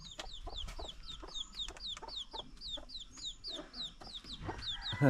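Chickens wearing cloth-tied shoes on their feet cluck repeatedly in quick, chattering bursts close by, with a few sharp clicks and rustles underneath; a louder squawk comes near the end. In a village in Meghalaya.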